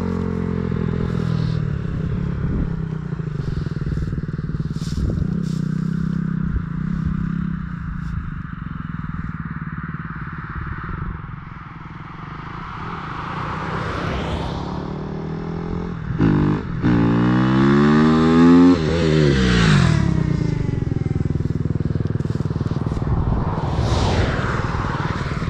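A motorcycle used in a riding lesson idles and then revs as it passes, with clattering mechanical noise and a swelling, sweeping engine note near the end.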